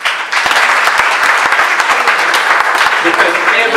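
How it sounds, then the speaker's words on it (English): Dense, sustained applause from a large crowd of parents and community members at a high school graduation ceremony, loud and steady throughout with no pauses. "give them a round of applause"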